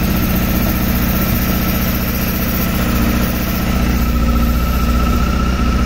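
A 2007 Honda Hornet 600cc motorcycle engine idles close up in a steady, loud, buzzing drone that fluctuates slightly, running unevenly as it struggles to hold idle.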